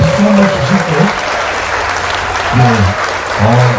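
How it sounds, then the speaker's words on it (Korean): Crowd applauding at an outdoor autumn festival on Hongdo, dense continuous clapping close by while a male announcer's voice and bits of music sound over and between the claps. "박수입니다."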